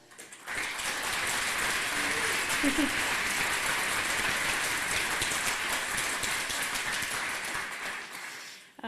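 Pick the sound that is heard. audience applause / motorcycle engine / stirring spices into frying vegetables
audience applause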